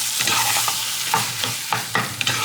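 A spoon stirs mashed potato mixed with cheddar and creme fraiche in a pan, giving continuous soft squelching and scraping with a faint sizzle underneath and several louder knocks of the utensil against the pan.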